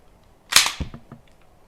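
The slide of a Canik TTI Combat pistol is seated during reassembly: one sharp metallic snap, then a few light rattling clicks, close and alone.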